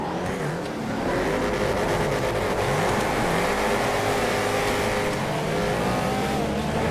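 A race car engine in GTA FiveM roars continuously at high revs, its pitch sweeping up and down through gear changes and speed shifts, loud and close with no talking.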